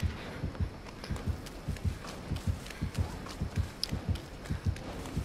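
Steady thumping heartbeat in the game Dead by Daylight, with regular paired low beats repeating throughout at a moderate pace over a faint background.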